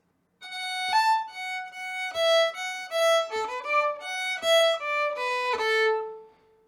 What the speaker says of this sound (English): You can also play that run with separate bows rather than a slur